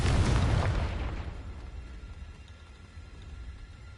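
A Confringo explosion spell blasts in the Hogwarts Legacy video game, a loud, deep burst right at the start that rolls into a decaying rumble and fades to a low, steady game ambience, with no voices over it.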